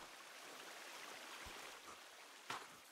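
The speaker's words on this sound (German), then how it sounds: "Beim Wasserfall." A waterfall in The Forest video game makes a steady, soft rushing wash of water, fairly faint and continuous, with one brief splash or knock near the end.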